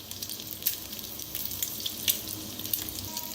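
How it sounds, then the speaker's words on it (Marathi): An egg fries in a pan, sounding like a close, steady, hissing sizzle with small spitting crackles and a few sharper pops, and no voices. "तर मस्त आपला अंड भाजायला लागलेला आहे बघा."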